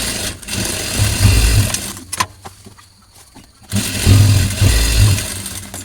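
A sewing machine stitches the side seams of a top in two loud, close bursts of rapid whirring, separated by a short quiet pause.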